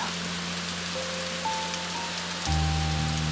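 Calm, constant rain falling steadily, a soft even hiss with a faint low hum underneath and a slight shift in tone near the end.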